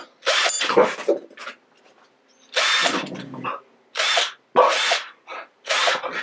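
A power drill whirs in several short, loud bursts separated by pauses, close up, with a brief lower grinding hum between them.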